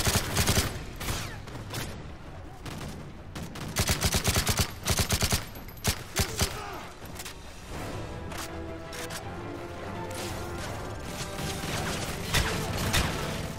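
Rifle fire in the Call of Duty MW3 campaign: bursts of sharp, rapid gunshots cluster in the first half, then give way to a steadier roar of distant battle and mechanical noise, loud and with no speech.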